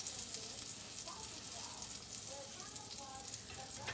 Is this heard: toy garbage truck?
no